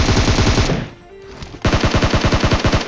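Automatic gunfire in a shooting video game as an enemy is killed: two loud rapid bursts of machine-gun fire separated by a brief gap, close and dominant with no talking.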